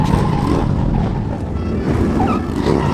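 A quad bike drifts on Holly, its engine droning steadily and close with a dense, rough rumble, tire scrub layered underneath and a brief higher whine rising near the end.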